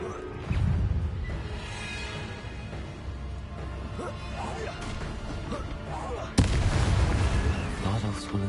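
Incendio fire spell cast in Hogwarts Legacy against an Inferius, a sudden loud whooshing burst that flares at once over continuous game music and ambience, with a voice speaking in the scene.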